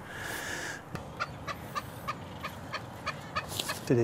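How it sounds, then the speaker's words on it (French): Frigatebirds at a seabird nesting colony give a rapid series of short, hollow popping calls, evenly spaced pulses repeating for a few seconds over steady background noise. "C'est des frégates qui font pot, pot, pot,"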